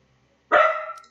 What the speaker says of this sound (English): You're barking at nothing again.